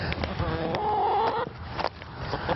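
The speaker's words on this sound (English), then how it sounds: "If you have chickens at home, sometimes you have a little helper." Chickens in a home garden cluck close by, a short run of soft throaty clucks and a rising, drawn-out call over light background noise.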